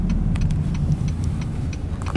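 A campus bus rumbles steadily nearby with a low engine drone and faint clicks and ticks on top, holding an even level throughout.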